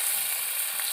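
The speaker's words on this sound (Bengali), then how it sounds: "দেখুন 5 ফোড়ন দিয়ে দিলাম প্রথমে, তারপর একটা লঙ্কা দিয়ে দেবো আর পেঁয়াজ দিয়ে দেবো।" Panch phoron spices and chilli frying in hot oil, a steady close hiss of sizzling with faint stirring scrapes underneath, no voices.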